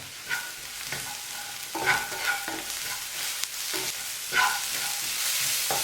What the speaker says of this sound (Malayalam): വഴറ്റിയെടുക്കുക എന്ന് പറയല്ലേ, അങ്ങനെ വഴറ്റിയെടുക്കുക